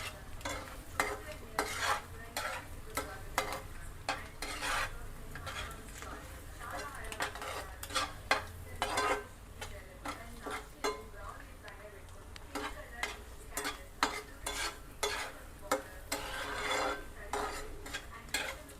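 Boiled egg masala fry being mixed in a wide pan with a fair amount of oil, intermittent scraping and clinking strokes of a spoon over a low sizzle, with occasional speech in between.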